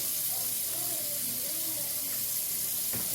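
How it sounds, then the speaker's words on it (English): A steady stream of tap water runs over a sockeye salmon fillet as it is rinsed in a sink, a constant close splashing rush with a brief clunk near the end. "Definitely want to rinse off the back as well."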